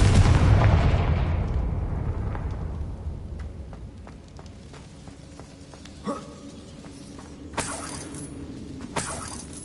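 A Confringo fire-blast spell erupts in Hogwarts Legacy with a loud, booming explosion that slowly rumbles away, followed by a few sharp cracks and impacts in the quieter tail.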